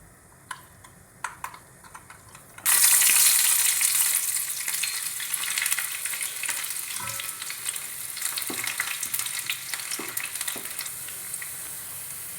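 Chopped onion hits hot oil in a pan after mustard seeds have popped, while cooking a spinach curry: a sudden loud, dense sizzle that bursts in and then settles into a steady crackling fry, with occasional stirring taps.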